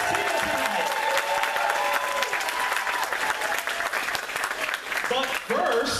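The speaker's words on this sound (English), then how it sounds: "Let's give a round of applause to all the cosplayers." Audience applause breaks out for cosplayers at the second annual Zapp Con cosplay contest in 2015. It is a dense, steady ovation that lasts throughout, mixed with crowd noise and some talk or cheering.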